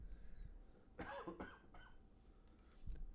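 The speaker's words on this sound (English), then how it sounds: "I'm going to cough quickly." A short burst of close, throaty coughing breaks a quiet room, followed by stillness and a faint thump.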